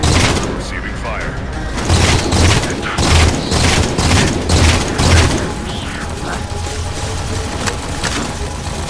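Loud, dense gunfire from the Halo 4 video game, rapid bursts and booming shots layered with mechanical clatter, with voices talking over the combat.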